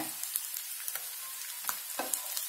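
Curry leaves crackle and sizzle as they fry with pepper chicken in a hot pan, a steady bright hiss broken by sharp spitting pops and a few scraping stirs, close and without talk.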